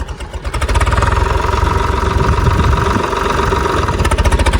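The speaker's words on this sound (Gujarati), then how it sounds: "તો જો અહીંથી ટ્રેક્ટર ઉતારવું પડે" A loud tractor engine chugs steadily nearby, a heavy rhythmic diesel thrum with no voices, the tractor descending toward a flooded creek.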